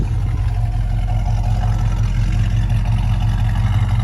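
A 1969 Ford Mustang hardtop with a 289 V8 and twin exhaust idles steadily, a loud, continuous deep rumble close by with no voices.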